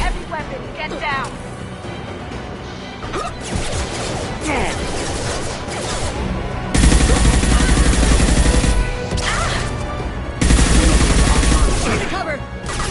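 Heavy weapon fire in Mass Effect 2 comes in loud, dense fusillades, with a sustained barrage midway and another near the end over continuous combat noise and scattered impacts.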